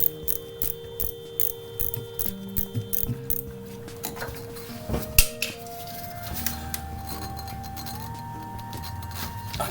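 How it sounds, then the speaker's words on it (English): Small metallic clicks and ratcheting from an 8mm wrench loosening a hose clamp during a smog pump removal on a 1987 Corvette, quiet irregular ticks, then faint tool clinks and a steady hum. "I'm going to just loosen the hose clamp. It's 8mm."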